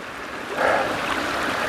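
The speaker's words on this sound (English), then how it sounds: "here's a feeder that goes down to Eliza Brook." A small mountain stream feeding Eliza Brook on the Appalachian Trail near Kinsman, a steady close rush and trickle of water with no talking.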